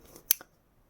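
Crimping scissors make two quick, crisp snips as they clip into a fabric seam curve on a sewn bag, close and isolated, followed by quiet.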